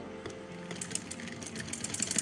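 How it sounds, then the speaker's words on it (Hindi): Sewing machine stitching along the edge of fabric over elastic for baggy sleeves, a close, fairly quiet steady run with rapid ticking needle strikes throughout, no talk. "इलास्टिक को बचाते हुए हम उनको किनारे पे कपड़े के ऊपर इस तरह से सिलाई लगाते हैं।"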